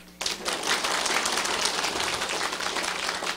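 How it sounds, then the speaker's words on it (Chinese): An indoor audience at a political committee meeting claps: a sudden burst of many hands breaks out and continues as dense, sustained applause for a few seconds, with no speech over it. "你们拍手呀！"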